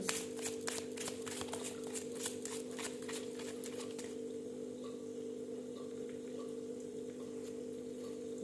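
Tarot cards riffled and shuffled in a quick flurry of close, crisp flutters, then quieter handling as a card is drawn, all over a steady low hum.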